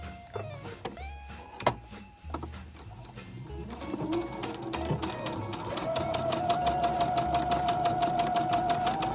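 A sewing machine stitches a Christmas napkin. A few separate clicks and short whirs come first, then a steady, rapid mechanical hum builds and runs continuously up close.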